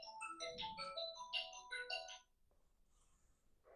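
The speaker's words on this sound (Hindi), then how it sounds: "ऑफिस का फोन है कोई, कोई बात नहीं।" An office phone rings with a bright electronic melodic ringtone of quick repeating notes for about two seconds, then cuts off, leaving a quiet room with faint background noise.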